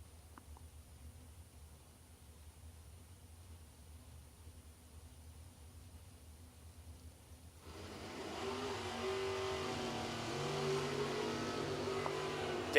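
Drag racing cars, a Tesla and a Roadster, sit quietly at a low rumble, then launch with a sudden loud roar that keeps building for several seconds.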